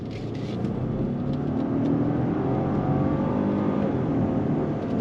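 Road noise from a 2023 Genesis G90 luxury sedan building speed, heard from inside the cabin: a steady low rumble and whir with a gently rising engine tone, no talk.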